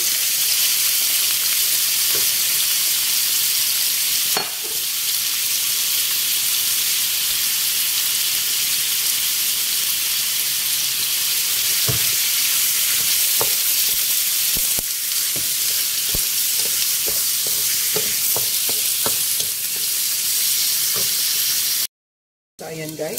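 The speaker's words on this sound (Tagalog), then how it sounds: "I-drop na natin yung ating balon-balunan." Chicken gizzards fry in a hot pan with a steady, loud sizzle and hiss, broken by occasional scraping clicks of stirring that come more often toward the end.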